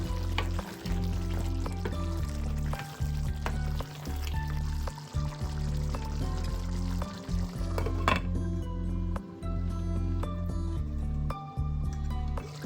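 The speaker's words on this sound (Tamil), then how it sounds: "இதோட குக் பண்ணி வச்ச மட்டனை சேர்க்கணும் சேர்த்து நல்லா பிளாட்டி விட்டுட்டு" Cooked mutton is tipped into frying masala and stirred, with a steady loud sizzle under repeated scraping and clinking of a spoon against the pan. The sizzle thins out partway through while the stirring goes on.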